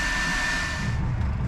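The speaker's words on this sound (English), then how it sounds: "A hand dryer is located just above." A hand dryer in the toilet of an Uzbek high-speed train blows with a steady close whoosh and a high motor whine, then the airflow roughens slightly, with no voices.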